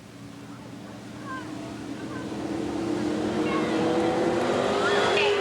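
Race cars roar together down the backstretch at Eugene Speedway in 1990, a steady droning engine note that swells louder as the pack closes in, with an announcer calling the race over it.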